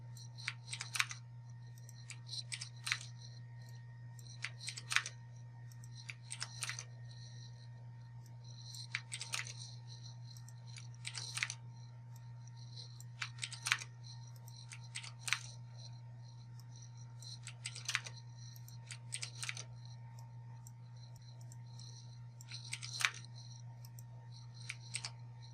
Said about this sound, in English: So I'll go back with you guys once I finish typing all these things here.